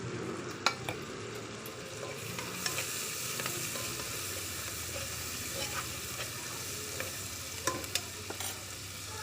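Tomatoes frying in oil for chicken gravy, a soft steady sizzle under repeated spoon stirs and a few sharp clinks against the pan, fairly quiet and close.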